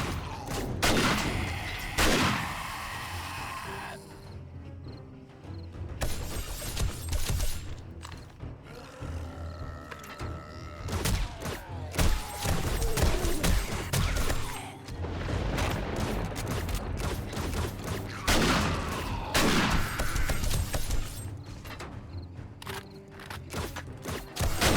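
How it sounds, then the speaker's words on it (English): Dart traps fire at zombies in 7 Days to Die amid a chaotic fight, with rapid, uneven bursts of sharp snapping shots, heavy thuds and rumbling impacts that keep coming throughout. "Those dart traps are working wonder."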